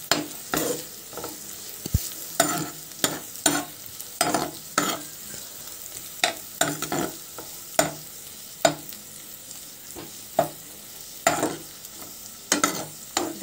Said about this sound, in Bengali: এবার আমি ভালো করে এগুলো একটু ফ্রাই করে নেব।